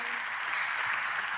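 A church congregation applauds a pastor during a sermon, a steady, even wash of clapping filling the whole short stretch at moderate loudness without breaks.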